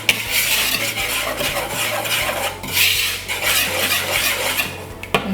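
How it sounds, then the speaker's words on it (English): A whisk scrapes and stirs briskly through dry ingredients of baking powder, baking soda and salt in a bowl, producing continuous close rasping and rubbing with light clinks against the bowl. "Then you want to give that a light whisk just to mix it all up."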